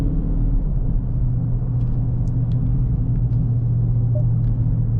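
A 2021 Scat Pack's engine rumbles steadily while driving, a loud, close low drone heard from inside the car with little change in pitch.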